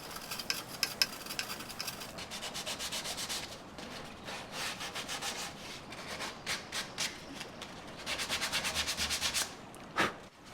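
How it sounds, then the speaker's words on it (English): A hand sanding block rubbing back and forth over the wooden front of an antique buffet drawer, with rhythmic bursts of scratchy strokes, some fast and clustered, others spaced apart, close and fairly quiet. "using hand sanding blocks to match the contour of the rest of the drawer front"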